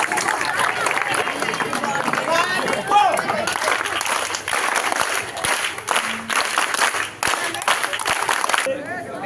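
An audience gives loud, sustained applause at a senior citizens' day event, with dense clapping mixed with crowd chatter and voices throughout.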